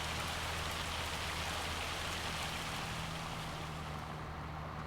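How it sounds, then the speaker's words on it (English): A heavy hail storm in the video game Farming Simulator 25 hammers down as a dense, constant roar of pelting ice, steady and unbroken across the whole stretch. "That was some heavy hail right there."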